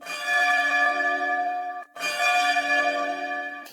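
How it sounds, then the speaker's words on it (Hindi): Temple bells ring together in two loud, sustained swells with a short gap between them, bright ringing tones that hang in the air. "मंदिर की सारी घंटियां एक साथ बज उठी।"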